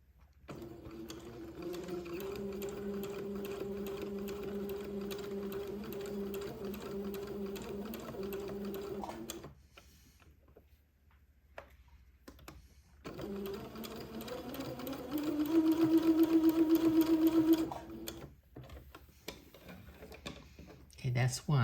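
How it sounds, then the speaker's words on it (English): A sewing machine stitches a narrow seam on an old-fashioned baby layette garment in two steady bursts separated by a pause, the second run faster and louder, with a soft voice nearby. "So I'm going to sew it at about 1/16 of an inch"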